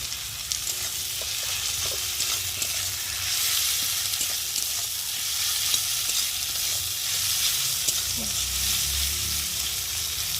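Onions frying in oil with salt and green chillies sizzle steadily throughout, with occasional soft stirring clinks from a spatula in the pan.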